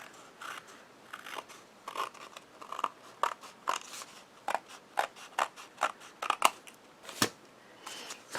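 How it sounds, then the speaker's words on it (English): Scissors snip excess material off a handmade light-up card, a series of crisp, close cuts in an irregular rhythm with short pauses between them. "Trim a little bit of the excess here."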